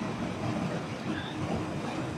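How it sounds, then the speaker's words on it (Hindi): German train running, a steady low rumble with soft rhythmic rattling heard from inside, continuous and moderately loud. "ये सबसे अच्छी ट्रेन है जर्मनी की"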